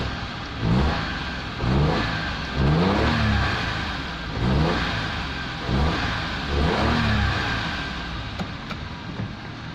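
A Perodua Nippa car engine running lumpy with a sticky throttle is revved repeatedly, about six rising-and-falling blips in a steady rhythm over a rough idle, close and fairly loud.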